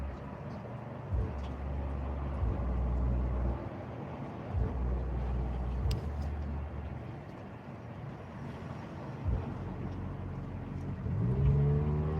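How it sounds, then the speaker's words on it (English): A car accelerates away, a loud low engine rumble that rises and swells in several pulses and then fades, with a passing engine note near the end. "When he took off, you heard the car more than you did the bass."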